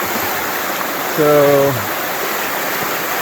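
Richmond Creek rushes steadily at a trail crossing on the Ozark Highlands Trail, a broad, even wash of flowing water with a voice speaking briefly over it.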